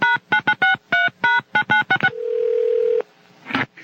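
A quick string of touch-tone dialing beeps on a telephone, followed by a steady ringing tone of about a second that cuts off, then a brief rustle, all close and clear.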